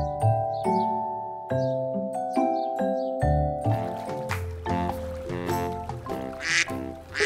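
A cartoon duck quacks repeatedly in a children's color-learning song, the short quacks bouncing over a bright, plucky melody of sustained notes, with no talking.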